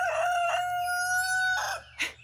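A backyard homestead rooster crows close and loud in the morning, a long sustained call with a final short squawk, set against a low steady background hum.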